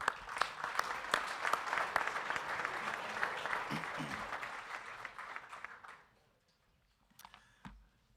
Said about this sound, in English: Another round of applause for our congressional panel.